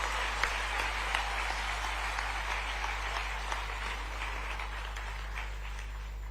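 Sustained audience applause filling a hall at a university diamond jubilee convocation ceremony, steady dense clapping from a large crowd with a constant low hum underneath.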